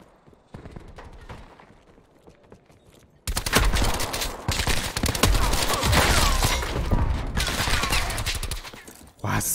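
Dense, rapid gunfire bursts erupt after a quiet start and continue loudly in Call of Duty: Black Ops 4, a continuous barrage of shots with game-like sound effects.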